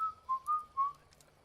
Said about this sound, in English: he heard almost right behind him a jaunty whistled tune